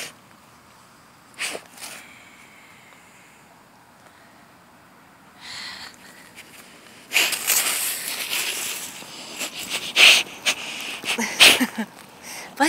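A dog sneezes outdoors while digging in muddy, rocky ground, giving several short sharp snorts and bursts, the louder ones near the end, with quiet scuffling between them.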